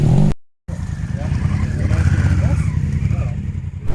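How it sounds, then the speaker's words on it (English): Adventure motorcycles ride past on a road on a sunny day, a steady engine rumble that builds and holds after a brief cut, with faint talk underneath. "Even the adventure bikes were out."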